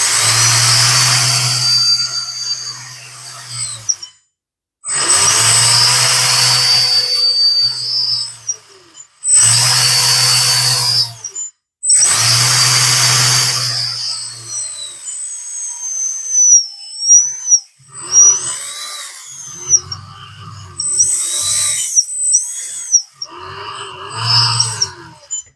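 A Lesu 850K RC dozer gearbox with a new set-screw pinion gear whirs in loud, high motor bursts of a few seconds each, separated by pauses, followed by shorter whining pulses and gear chatter that rise and fall in pitch.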